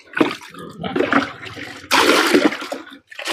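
Water sloshing and splashing as a pig feeding trough is washed out on a fattener farm, a steady rushing pour with a brief pause near the end.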